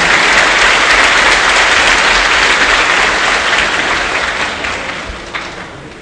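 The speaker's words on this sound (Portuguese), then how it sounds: "mais uma vez uma salva de palmas para o Frei Aguiar" Loud crowd applause at an outdoor religious festival with the lowering of a saint's image, thick sustained clapping that fades gradually toward the end.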